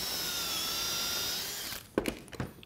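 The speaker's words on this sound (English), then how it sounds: "once your pocket hole screws are drilled" A power drill bores pocket holes into exterior PVC trim guided by a pocket-hole jig, a steady whirring grind for nearly two seconds before stopping, followed by a few sharp clunks.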